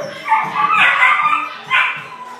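Dogs at a grooming shop, a poodle and a cockapoo, giving a few loud, close barks and whimpering yips in quick bursts.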